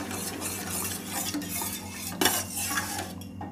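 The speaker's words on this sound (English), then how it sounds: "If there are any lumps, just smash it with the ladle." A ladle stirs and presses lumps in dissolving jaggery syrup in a pot, with continuous scraping and soft clinks plus one sharper knock, close up.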